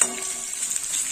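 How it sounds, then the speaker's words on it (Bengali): Bitter gourd pieces fry in hot white oil in a wok, giving a steady, hissing sizzle that stays close and even throughout a very short moment, with no voices. "উচ্ছেগুলো এইভাবে ভেজে নিতে হবে লাল লাল করে।"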